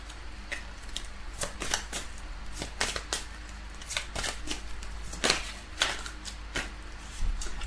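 Oracle cards are shuffled close by, giving a series of quick, crisp riffling and flicking bursts in an uneven rhythm against a quiet background.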